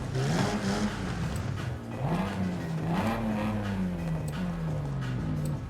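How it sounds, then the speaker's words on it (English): Straight-six engine in a Forza Horizon 5 car revs steadily for several seconds, its pitch rising and falling in smooth waves, loud and close with no talking. "I think we're just going to have to go for the straight 6 because that sounds so nice."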